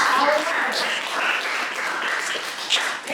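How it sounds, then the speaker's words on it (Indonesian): An audience in a school physics classroom applauds after a student presentation, with steady, fairly loud clapping for about three seconds while voices carry under it. "kita beri aplaus juga untuk"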